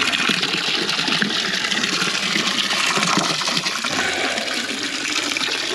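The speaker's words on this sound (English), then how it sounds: "The rest of that water will finish unloading through that, and this will fill up here." Water gushes steadily through a switched valve into a livestock trough on a farm fence-clearing job, a loud continuous rushing and splashing close by, with no talk.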